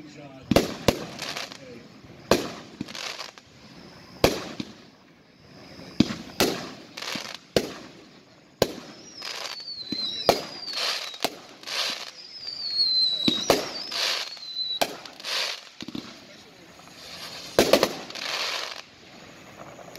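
A Cutting Edge Buck 16-shot firework cake fires a series of sharp, loud booms at uneven intervals, with whistling tails rising between some shots and crackling after them. Spectators talk faintly in the background.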